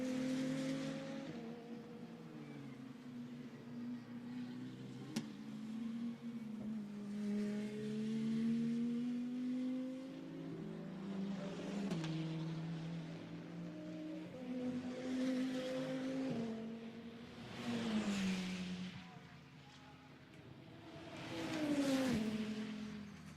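GT2 race cars at the Misano circuit during pre-qualifying, engines rising and falling in pitch as they accelerate and pass, with louder surges near the end; no talk.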